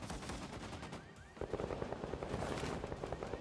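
Gunfire from the video game Bloodhunt crackles in a dense, rapid burst. Shots rattle fast and fairly loud after a short lull, with no speech over them.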